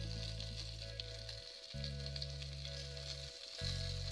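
Drumstick pieces fry with spice powder in a pan, sizzling steadily up close, with the stirring breaking the sound into short pauses.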